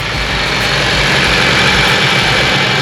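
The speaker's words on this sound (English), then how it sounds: "The engine sounds smooth" A Mitsubishi Lancer Evolution X engine idling close by, a loud, steady, smooth low rumble and hum that holds constant throughout without speech.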